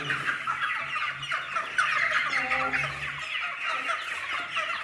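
Gold Brahma chickens cluck close by, a steady stream of overlapping clucks and soft calls from several birds with no talk over them.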